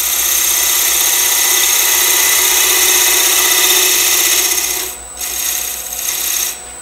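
Negative rake scraper cutting wood on a lathe, a steady continuous rasping scrape with the spinning lathe hum underneath, loud and close, easing and varying near the end.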